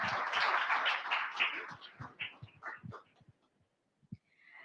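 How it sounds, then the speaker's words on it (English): An audience at a university cloud challenge launch event in London gives a round of applause. The clapping starts fairly loud, dwindles to a few separate claps and ends in near silence. "give yourselves a round of applause"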